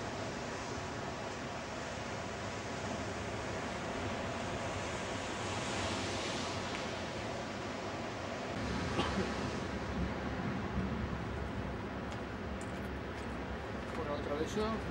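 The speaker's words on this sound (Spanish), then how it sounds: "Como las aguas del Atlántico golpean la costa." Atlantic Ocean waves crash against the rocky coast at Rabat, Morocco, near a lighthouse, a continuous roaring surf with a stronger surge partway through, and a voice talks over it.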